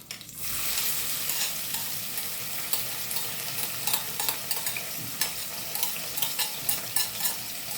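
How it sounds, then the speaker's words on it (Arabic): Onions hit hot oil in a cooking pot and fry with a loud, steady crackling sizzle, punctuated by sharp pops and spatters, close by with no talking. "انا حطيت شويه زيت هنا حلوين كده في الحله وسخنتهم كويس، وهنزل بالبصل كده عليهم"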